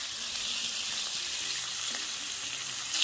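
Large shrimp, split down the back, sizzle steadily in a hot pan, a loud continuous hiss and crackle of frying oil with no talking.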